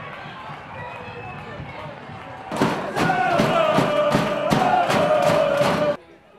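A vocal football crowd roars and cheers a Basingstoke Town goal by top scorer Sam York against Salisbury City, a loud sustained swell of voices that bursts in partway through and holds for several seconds before cutting off.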